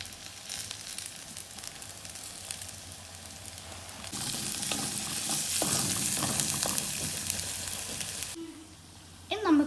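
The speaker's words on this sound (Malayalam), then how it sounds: "കുറച്ച് കരിയേപ്പില ഇട്ട് കൊടുക്കാം" Curry leaves drop into hot oil for a mango ginger pickle and crackle, with the frying hiss swelling loudly partway through, then cutting off before a short closing sound.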